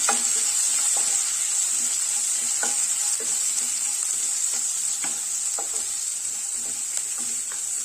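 Sliced onions sautéing in a pan for beetroot masala dosa: a bright, constant sizzle close by, punctuated by soft, irregular scrapes and taps of a spatula stirring.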